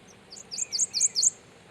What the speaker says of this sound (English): Look at that yellow bird.